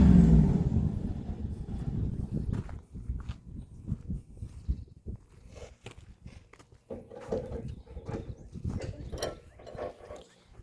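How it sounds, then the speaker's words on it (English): Tie-down straps come off, with close rattling clicks and mechanical clatter of buckles and ratchet hardware, louder rumbling at the start, then irregular knocks and shuffling movements. "just taking off the straps that held it underneath"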